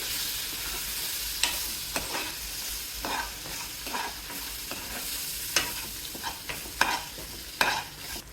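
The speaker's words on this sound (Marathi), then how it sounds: "आता ही हळूहळू आपल्याला मिक्स करून घ्यायची आहे" Tomato puree fries in hot oil with a steady, close sizzle while a spoon stirs it, scraping and tapping the pan at irregular moments. No talk.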